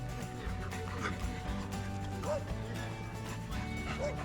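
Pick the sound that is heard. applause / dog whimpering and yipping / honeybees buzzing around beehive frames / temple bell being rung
dog whimpering and yipping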